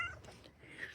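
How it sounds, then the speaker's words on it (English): A small cat at a cafe gives a faint, brief meow over quiet background murmur. "A little cat wanted to say hi."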